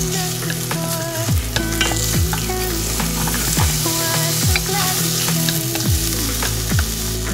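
Beef strips stir-frying in hot beef tallow in a wok sizzle loudly and continuously, with the repeated scrape and clatter of stirring close up.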